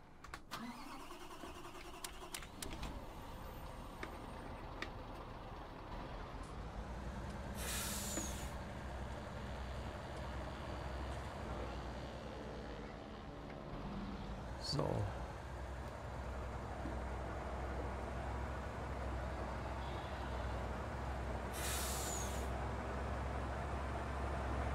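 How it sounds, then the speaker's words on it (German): A truck works at night on farm fields: its engine starts and idles at a low, steady rumble, with sharp air-brake hisses and distant mechanical clanks in a quiet outdoor setting. "LKW."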